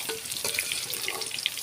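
Green banana and potato pieces fry in hot oil in a home kitchen, a steady close crackle and sizzle with small sharp pops scattered throughout.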